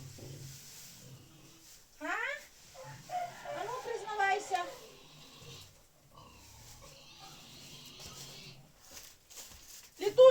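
A hen gives a few rising, squawky clucks and cackles close by, with quiet rustling and a voice speaking softly between the calls.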